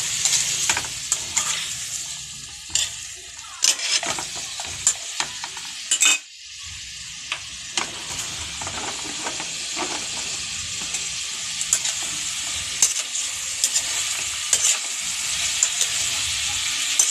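Chicken for adobo fries in a pan with a continuous close sizzle. Repeated utensil scrapes and clicks break through it as the pieces are stirred, with one brief lull partway through, and no one talks.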